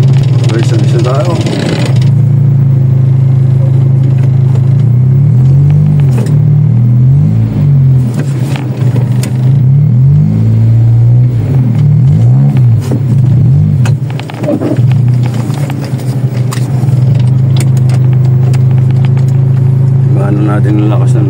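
A 1994 Nissan Sentra drives along with a loud, close engine drone that rises and falls with revving and shifting, while people talk over it.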